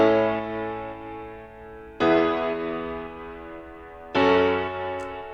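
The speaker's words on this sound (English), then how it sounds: "craft some piano chords around that banjo sample" Sustained piano chords ring over a plucked banjo sample in a pop-folk track, with three chord changes about two seconds apart, each struck loudly and then decaying, with no talk.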